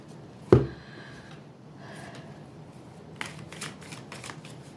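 Tarot cards being shuffled and drawn by hand, a sharp slap at the start and then soft riffling and flicking of cards, close and quiet, with no voices.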